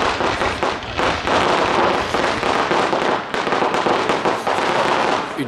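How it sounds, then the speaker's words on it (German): A 300-shot fireworks battery fires in a dense, loud, continuous barrage of crackling bursts and booms with no pauses, outdoors at a pre-show firing. "als nächstes Position 57 300 Schuss Batterie."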